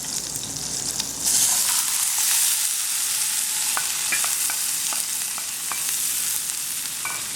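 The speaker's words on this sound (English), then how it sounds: "What we're going to be doing is adding in our veggies just to saute it a bit." Corn, jalapenos, mushrooms and onions sauté in hot oil and butter, giving a loud, steady sizzle close by with scattered stirring taps and scrapes, and no voices.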